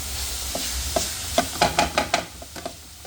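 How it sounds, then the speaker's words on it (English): A three-ingredient Nigerian coconut candy mixture is stirred in a hot pan: irregular scraping strokes over a steady, close sizzle. "Keep stirring, guys. Keep stirring."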